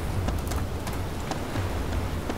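Steady rain pours down in the game Arma II DayZ, a dense hiss with scattered drop impacts and a low rumbling undertone, heard with no talking.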